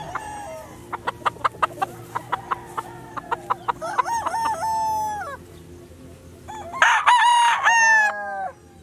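A roughly six-month-old gamefowl stag at a gamefarm in Calaca, Batangas, gives a run of sharp, evenly spaced clucks, then loud, close crowing with no voices.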